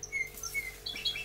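Four month-old cage bird chicks among parrots, canaries and finches give quick, high, thin chirps close by, several overlapping tweets in a short busy burst.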